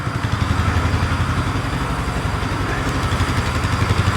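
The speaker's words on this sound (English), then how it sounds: "I gotta check the charging system while it's sitting here idling." A Polaris Sportsman ATV that has not run in a long time idles on a workbench, its engine chugging in a steady, rapid pulse, close and loud throughout.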